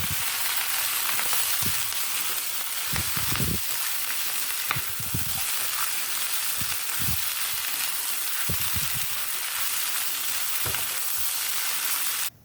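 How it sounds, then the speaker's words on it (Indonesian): Vegetables and sliced spring onion stir-fry in a pan for Javanese mie goreng, a steady loud sizzle broken by repeated scraping stirs at an uneven rhythm, with no talking. "masukkan sayuran dan potongan daun bawang, lalu diaduk-aduk, dimasak atau ditumis sampai sayurannya setengah matang"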